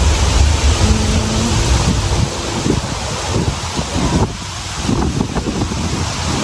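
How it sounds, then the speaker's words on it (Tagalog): Gusty wind buffets the microphone outdoors, a loud rumbling whoosh that swells and dips throughout with no voices. "Kasi, ang hangin-hangin."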